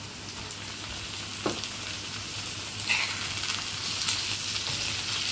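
Onion and tomatoes frying in a pan for boiled egg bhurji make a steady close sizzle, with a couple of light utensil taps and scrapes and no talk.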